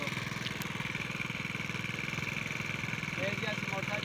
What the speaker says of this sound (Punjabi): ਇਹ ਜੀ ਅਸੀਂ ਮੋਟਰਸਾਈਕਲ ਜਾ ਰਹੇ